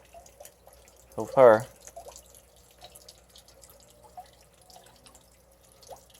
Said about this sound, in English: Little bamboo waterfall.